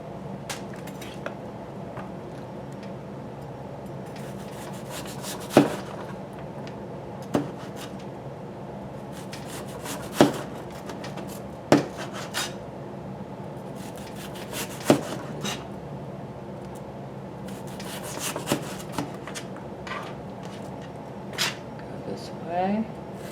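Sharp knife taps and slices on a cutting board while preparing pork chow mein, scattered distinct chops spaced a few seconds apart under a steady kitchen hum, with someone talking throughout.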